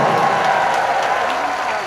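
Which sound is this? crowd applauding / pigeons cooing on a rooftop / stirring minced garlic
crowd applauding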